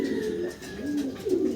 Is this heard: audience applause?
no